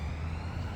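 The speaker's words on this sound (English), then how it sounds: "It's just a police car coming tearing down the road." A police car siren sounds on a road, a steady wailing tone heard briefly and at moderate distance, with no one speaking over it.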